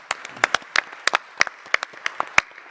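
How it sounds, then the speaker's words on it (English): Sparse applause from a small conference audience after a panel discussion: irregular individual claps, close and distinct, spread over a few seconds without talk. "Let's have a round of applause for our panel."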